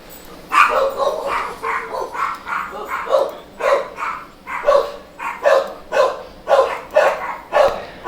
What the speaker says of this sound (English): I love my dogs. But, oh my God, they're noisy